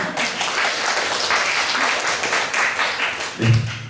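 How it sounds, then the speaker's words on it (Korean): Audience applause at a ceremony marking Energy Day in Busan, a steady wash of clapping from a sizeable crowd that holds for several seconds and ends with a brief louder swell. "박수 한 번만 다시 한번 드릴게요"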